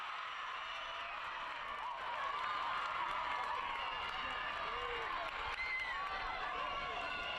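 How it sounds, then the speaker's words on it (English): A stadium crowd roars and cheers after a penalty shootout goal in an MLS Next Pro soccer match, a broad, steady wash of distant cheering with a commentator speaking over it. "Sends the crowd into a frenzy here"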